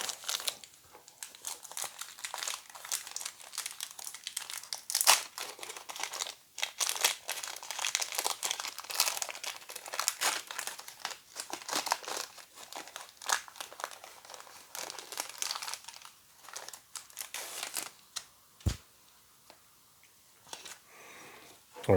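Crinkling, tearing foil from a 1989 Pro Set football card pack being ripped open, close-up crackles in irregular bursts for most of the stretch, then quieting near the end.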